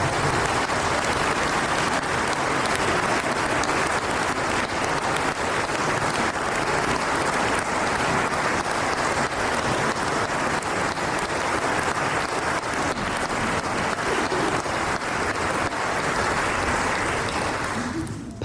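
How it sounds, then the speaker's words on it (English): A Christmas concert audience gives a big round of applause to the health department staff. The clapping is dense and sustained like heavy rain and fills the room for about eighteen seconds before quickly fading out. "So can we have a big thank you and round of applause to everybody in the health department."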